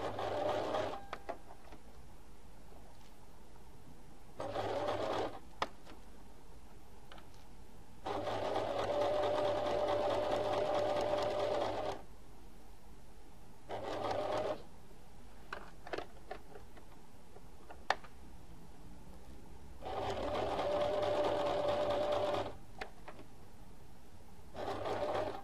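A sewing machine stitches slowly around corners, running in several separate bursts of steady mechanical whirring with short quiet pauses between them as the fabric is turned, close and clear with no talking.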